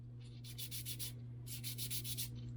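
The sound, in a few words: sanding glaze off Traxxas T-Maxx brake disc with sandpaper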